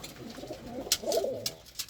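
Pigeons, a Bulgarian breed, coo softly in a backyard coop, a low murmuring coo with a few brief higher bird sounds over quiet background noise.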